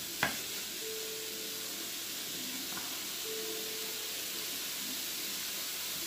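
Ground meat browns in a pan for lasagna soup, a steady, soft sizzling hiss that runs throughout after a single sharp click at the start.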